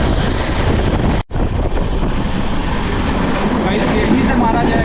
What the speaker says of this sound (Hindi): हावड़ा अमृतसर मेल को रानीगंज में ओवरटेक मारा जाएगा